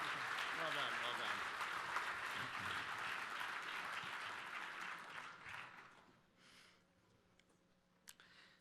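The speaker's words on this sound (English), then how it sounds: "please join me in giving one more round of applause for this inspirational group of awardees for 2023" Sustained audience applause at the NDSU Evening of Distinction awards ceremony, a dense wash of clapping that gradually thins and dies away, followed by quiet room tone with a few stray claps.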